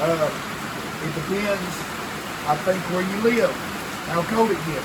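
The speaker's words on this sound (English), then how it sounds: "So I apologize for the rain, y'all. It's coming down pretty good." Heavy rain pours outdoors as a steady, dense hiss that runs throughout, with someone talking over it in the foreground.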